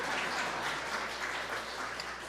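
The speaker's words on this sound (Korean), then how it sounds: "우리 감사와 환영의 박수." Church congregation applauding to welcome a pastor, a brief, soft and somewhat distant patter of clapping that continues evenly throughout.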